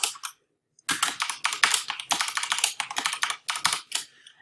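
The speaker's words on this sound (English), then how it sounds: "I'm going to type in call text" Steady typing on a computer keyboard while entering text for an email signature: rapid clustered keystrokes in close, loud bursts after a short pause, with no voices.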